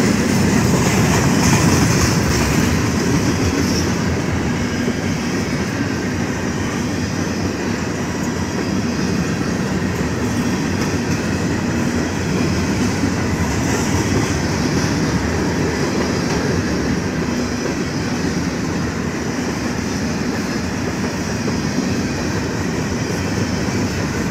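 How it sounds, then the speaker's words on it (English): A long BNSF freight train rumbles steadily past at close range in Effingham, Illinois, a continuous roar of rolling cars with faint rhythmic clatter from the wheels, no voices. "great this train is long."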